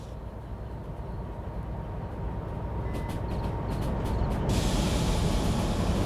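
A train in the video game Derail Valley rumbles steadily along the rails while brakes are applied, with a continuous low roar building slightly louder and a hissing air-brake release near the end.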